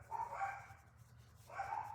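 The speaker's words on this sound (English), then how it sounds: "They bark all the time." Two bursts of dog barking, somewhat distant and muffled, separated by a short pause over a low background rumble.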